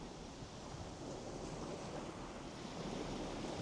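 Sea waves washing on a cold coastline in March, a continuous soft surf wash mixed with wind buffeting the microphone, faint and steady, with no voices.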